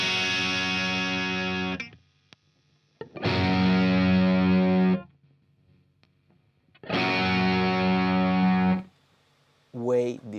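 Distorted electric guitar played through a Fractal FM3 or Line 6 POD Go modeler with a single-microphone IR, heard as three sustained, heavily overdriven chords separated by silent gaps, with a brief fourth chord starting at the end.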